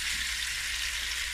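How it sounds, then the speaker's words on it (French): Haitian conch (lambi) meat dropped into hot oil with spices gives a steady, loud, close-up frying sizzle that stays broadband and unbroken throughout. "Une fois que c'est... que notre huile est chaude, on va mettre le lambic,"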